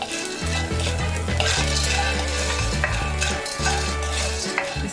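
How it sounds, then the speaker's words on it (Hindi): Flaxseed being dry-roasted and stirred in a pan for alsi pinni, giving a continuous close sizzle and scraping with light clinks of utensil on metal, under a steady low hum, no talk. "इसको इतना ही भूनना है कि जिसमें ये फूल जाए।"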